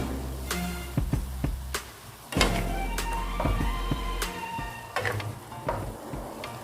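Bean sprouts and tofu sautéed in a pan, sizzling steadily while a utensil scrapes and clacks against the pan in irregular stirring strokes, close and clear.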